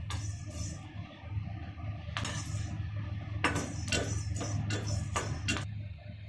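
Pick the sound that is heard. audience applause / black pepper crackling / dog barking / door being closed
black pepper crackling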